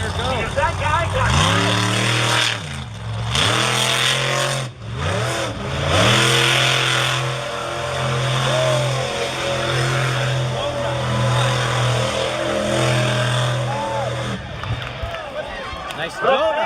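Stinger Unleashed monster truck roars loudly through a big donut at a speedway stadium show, its engine revving up and down in sustained surges with an announcer talking over it throughout.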